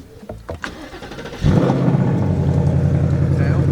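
A 2024 Ford Mustang GT cold-starts after a few clicks and a brief crank, then its engine catches with a loud burst and settles into a steady, deep idle rumble.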